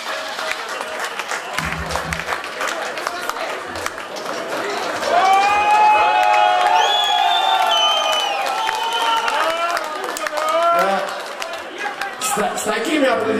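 Concert crowd at a band show claps and cheers loudly, with whoops and shouting swelling in the middle before easing, and a few voices audible through the noise.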